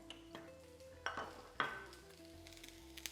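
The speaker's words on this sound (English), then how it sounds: "You can hear those sizzling away." Chopped potatoes and onion fry in a pan for a Spanish tapas dish, giving a quiet, steady sizzle broken by a few sharp clinks and scrapes of a utensil stirring.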